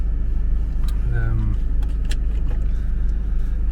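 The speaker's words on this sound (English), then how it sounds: "let the engine warm up" A self-built Sprinter camper van engine idles as it warms up on a cold winter morning at a truck stop, a steady low rumble throughout, with a few clicks and rattles over it and brief talk.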